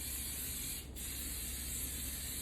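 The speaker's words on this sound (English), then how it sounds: "The reason I like to use this spray is because I can get into all the cracks" Baking spray hisses steadily onto a bundt cake pan, a close continuous aerosol spray with one tiny break, fairly quiet and with no talk.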